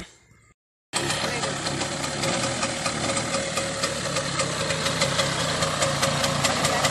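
A Bajaj Chetak scooter engine revving hard in first gear for a wheelie: after a brief silence, a loud, steady, rattling two-stroke drone starts abruptly and holds close, with a voice faintly underneath.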